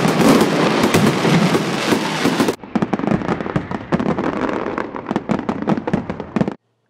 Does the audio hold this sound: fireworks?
yes